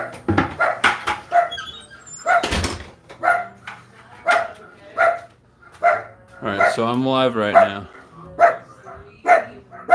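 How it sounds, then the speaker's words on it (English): Household dogs barking repeatedly in sharp, close bursts, with yips and a short whimpering stretch, while a person talks throughout. "we got dogs and they're gonna freak out the whole time"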